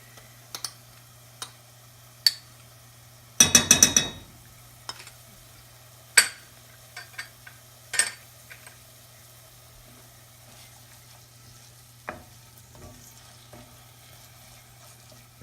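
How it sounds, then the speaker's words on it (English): Onions and Thai curry paste sauté in a kitchen pan, heard as a quiet fry under scattered close stirring clicks and scrapes, with one short loud clatter early on and a low steady hum throughout. "we'll let that saute for a little bit longer until these onions are clear"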